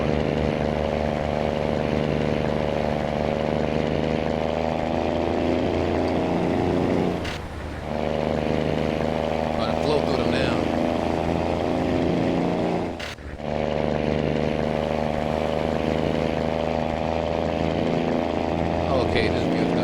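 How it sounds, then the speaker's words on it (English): A Kenworth T2000 truck engine in American Truck Simulator drones steadily and loudly with a strong harmonic tone, dipping briefly twice as gears change. "I can't get over the sound of this engine. I've never heard an engine with this type of pitch before."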